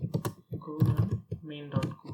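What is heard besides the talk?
typing on a computer keyboard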